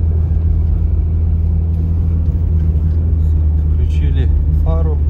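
A UAZ Patriot drives along a road into a village at dusk, its engine a steady, loud low rumble with continuous road noise throughout, and a brief voice heard faintly near the end.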